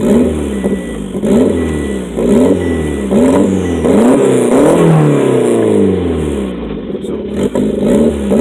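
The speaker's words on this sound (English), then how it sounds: "Yep, throttle got stuck" Honda Civic engine on a snowy drive, revving hard and holding high as the throttle sticks, with harmonic whine rising and falling in repeated surges throughout, loud and close.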